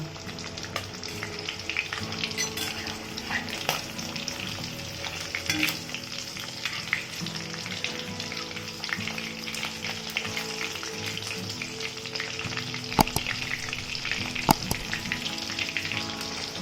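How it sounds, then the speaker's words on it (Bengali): Pieces of katla fish fry in hot mustard oil in a pan, giving a dense continuous sizzle broken by occasional clicks and scrapes of stirring, with no voices. "মাছগুলোকে তেলের মধ্যে ভালো মতন ডুবিয়ে দিচ্ছি যাতে মাছগুলো ভালো মতন ভাজা হয়"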